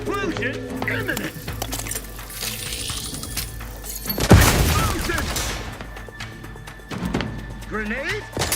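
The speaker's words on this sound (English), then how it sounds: "Explosion imminent!" A loud booming blast about midway, with rumbling debris afterward, set among The Outer Worlds 2 game sounds, music and voices.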